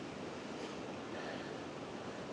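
A creek flows steadily beside a Colorado campsite, a soft continuous wash of water with no pauses or voices, faint and even throughout.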